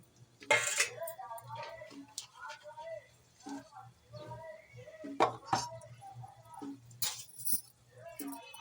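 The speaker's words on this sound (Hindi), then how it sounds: "हिला लेंगे इनको चम्मच की मदद से।" A spoon stirs whole chilies in hot oil in a pan, making scattered metallic clinks and scrapes in irregular bursts, fairly close and clear against a quiet background.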